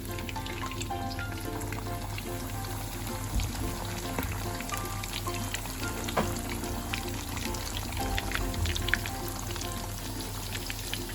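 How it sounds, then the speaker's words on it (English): King prawns deep frying in hot oil give a steady, quiet bubbling sizzle that goes on throughout with small crackles, no speech. "we're going to deep fry the king prawns in hot oil"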